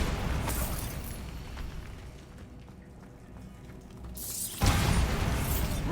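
A Bombarda blast spell goes off in Hogwarts Legacy, a dense rumbling burst that fades into a quieter lull before a second loud, broadband boom hits near the end.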